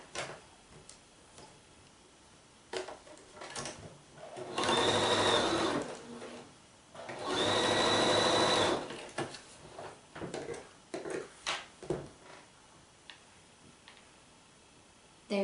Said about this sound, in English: And then they are going to get sewn together.